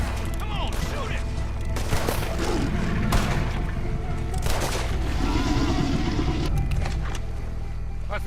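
Gunfire rings out during a cutscene of Red Dead Redemption 2 set in Saint Denis: loud, repeated bursts of shots and heavy thumps sit over a rumbling background, with voices speaking at times.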